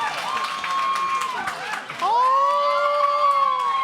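Audience applause and cheering at a live talk show, a steady loud wash of clapping and crowd noise with long, high sustained whoops rising over it, swelling stronger in the second half, with voices mixed throughout.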